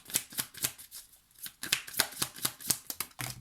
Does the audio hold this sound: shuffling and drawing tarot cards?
yes